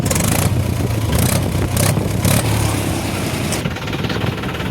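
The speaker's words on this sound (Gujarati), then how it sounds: "જો ટ્રેક્ટરનો અવાજ સાંભળો" A steady, loud tractor diesel engine chugging continuously nearby, rumbling low throughout with no voices.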